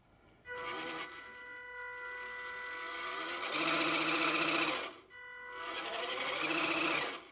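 Steering servo of a WPL C74 RC truck whirring in short bursts, a high buzzing whine that starts, holds for a few seconds, pauses briefly and resumes, close and steady.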